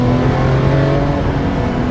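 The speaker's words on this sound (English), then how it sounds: "And the way those revs drop would make a 911 ST blush." The engine of a Porsche 911 reimagined by Singer (DLS) rev-matches loudly in a continuous two-second stretch, its steady mechanical drone dipping slightly as the revs fall away, heard close without voices.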